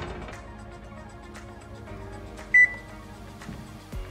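Kitchen oven control beeping once as a two-hour timer is set, a short sharp electronic tone over a low appliance hum, with small button clicks around it.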